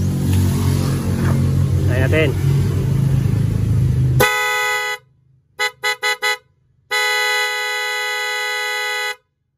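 A loud dual car horn blares in short bursts, a series of quick toots followed by a long sustained honk, after a stretch of background talk.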